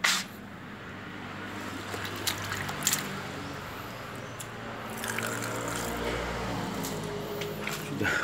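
Water is poured slowly over a Javan gibbon to rinse off soap, giving soft splashing and trickling with scattered sharp splashes and a low background hum, fairly quiet throughout.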